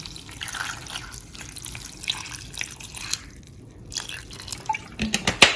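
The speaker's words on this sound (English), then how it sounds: "I'll go ahead and add some cold water." Cold water is poured into a sweetened millet mixture for Hausa fura, giving a faint, close trickle and splash with a few sharper drips toward the end.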